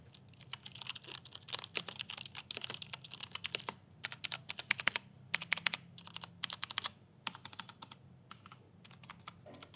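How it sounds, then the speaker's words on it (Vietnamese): A mechanical keyboard with Brown switches is typed on in uneven bursts of soft, tactile, non-clicky keystrokes, close and fairly quiet, with brief pauses between flurries. "các bạn thử nghe xem là cái tiếng gõ của nó như nào nhá"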